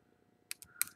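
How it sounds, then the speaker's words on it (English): A small spring inside a disassembled Bass Pro baitcaster fishing reel gives three quick, sharp clicks, close and faint, over a quiet background. "that little spring right there sticking out is what's making that clicking sound"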